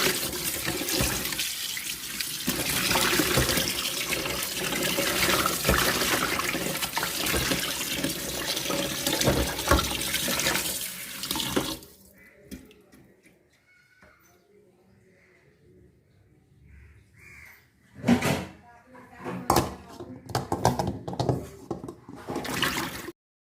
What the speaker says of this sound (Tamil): சிக்கனை நல்லா ஒரு 3 times 4 timesக்கு வாஷ் பண்ண நல்லா மஞ்சள் போட்டு நல்லா வாஷ் பண்ணுறேன்